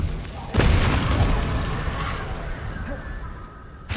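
A fiery spell blast in the Hogwarts Legacy video game bursts in with a sudden loud boom, followed by a long rumbling, crackling wash that fades gradually, with a second hit starting at the very end.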